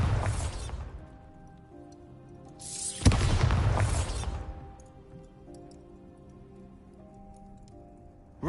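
Bombarda blasting spell in the video game Hogwarts Legacy, two heavy booming explosions a few seconds apart that roll off into quiet game ambience with light ticking.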